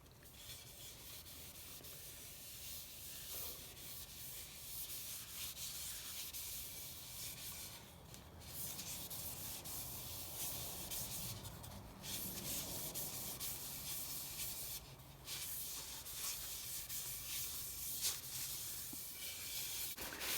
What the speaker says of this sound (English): repeat the previous step of putting finish on and wiping it off